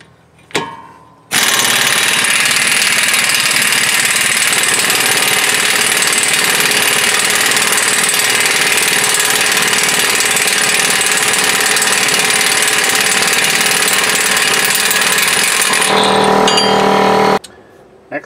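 An impact tool loosening a 31 mm axle nut on a Jeep Grand Cherokee during wheel bearing replacement, a loud, close, continuous rattling hammer that runs for about sixteen seconds before stopping abruptly.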